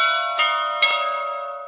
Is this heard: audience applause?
no